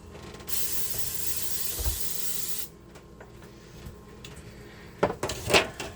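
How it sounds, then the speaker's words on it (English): A steady hiss of aerosol spray runs for about two seconds, then stops, followed by quiet clicks and a few louder rattling knocks near the end. "I'm going to spray another one of these."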